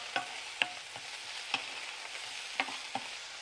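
Okra spread out and frying in a wide pan, heard as a soft steady sizzle with a few sharp clicks and stirring taps scattered through, close and alone without voices.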